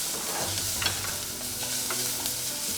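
Coriander stems sauteing in a pan as the base for a mopane worm chili sauce, giving a steady, soft frying sizzle with a few faint stirring scrapes, close by and without talk.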